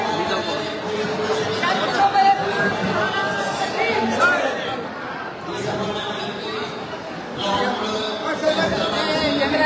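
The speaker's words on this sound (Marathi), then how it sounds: "पैठण येथे मनोज जरांगे पाटील पोहोचलेत आणि प्रचंड गर्दी या पैठण येथे आपल्याला पाहायला मिळते." A huge crowd packs Paithan during the Nathshashthi festival, producing a dense, continuous babble of many voices that fills the air at a steady level.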